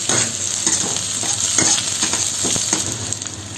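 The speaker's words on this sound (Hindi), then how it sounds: "इसको हम लोग बढ़िया से फ्राई होने देंगे।" Chicken chow mein with beans, carrots and onion sizzles loudly in a hot pan, with continuous frying crackle and irregular scraping stirs close by, without talk.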